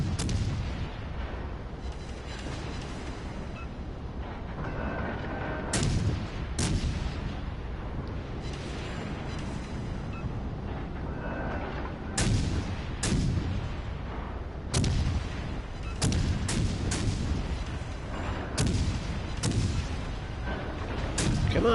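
Ship cannons in a PS4 naval game fire as a run of heavy booming shots, repeated at uneven intervals over a constant low rumble of battle ambience.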